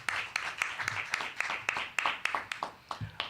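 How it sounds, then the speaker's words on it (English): A church congregation at a Sunday celebration service claps together in a sparse, rhythmic burst of applause, with distinct individual claps spaced through a modest-sized room. "Give yourselves a round of applause."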